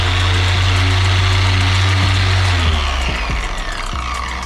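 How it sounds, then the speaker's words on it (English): A handheld car polisher runs continuously up close to clean out its pad, a loud steady motor drone with a low hum that eases slightly toward the end. "So I turn my polisher on, pick a rag"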